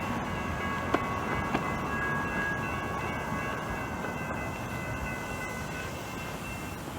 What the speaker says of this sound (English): Just in time for a train.